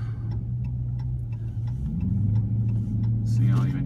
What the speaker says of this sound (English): I'm doing S's in all this deep snow.